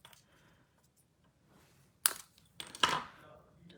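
Paper being cut with scissors, heard as two sharp, close snips about a second apart in an otherwise quiet room.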